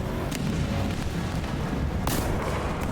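Tank combat in War Thunder, with a heavy low rumble of engine and battle noise under two sharp cannon blasts, one early and a louder one near the middle.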